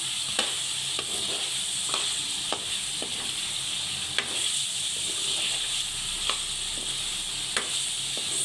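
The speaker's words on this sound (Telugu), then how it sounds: "ఇది కూడా అల్లం వెల్లుల్లి పేస్ట్ బాగా ఫ్రై చేసుకోవాలండి" Ginger garlic paste fries on a low flame in a chicken pickle pan, giving a steady close sizzle with a few sharp spoon-stirring taps scattered throughout, no talking.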